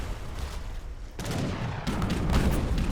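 Dense battlefield din of cannon and musket fire from Age of Empires III, a continuous rumbling barrage of overlapping booms and crackling volleys that thickens and grows louder in the second half, with no voices.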